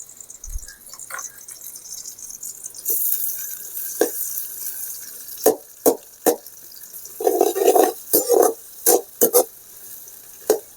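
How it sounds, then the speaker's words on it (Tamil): Onions sauté in hot oil in a pan, making a soft, steady sizzle broken by sharp scrapes and clatters of stirring at irregular intervals. "வெங்காயம் வதங்கிட்டு இருக்கு."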